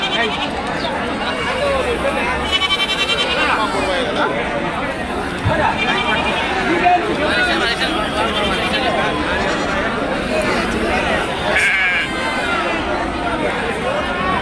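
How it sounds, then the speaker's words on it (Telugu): Goats bleat repeatedly amid a dense crowd of chattering voices at a busy outdoor goat and sheep market. "మంచి మంచి మేకలు వచ్చినాయి"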